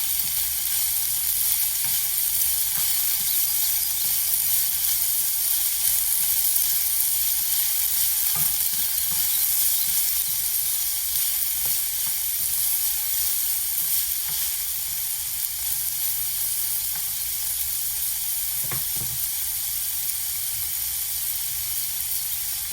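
Peas are frying in a pan with mutton for vegetable noodles, giving a loud, steady sizzle that runs the whole time with a few faint stirring knocks.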